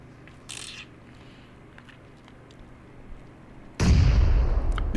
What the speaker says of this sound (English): The nades are getting thrown out.